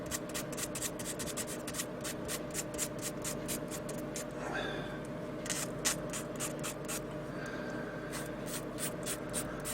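Coarse sanding stick rubbed on a plastic Boeing 747 model kit, a run of rapid rasping strokes close up, with a short pause midway before the scraping resumes over a faint background hum.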